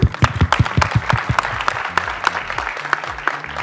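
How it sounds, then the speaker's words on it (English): A small audience at a Marathi movie music launch event claps, sharp individual hand claps close by, starting strong and thinning out, with a low murmur underneath. "Please applaud them."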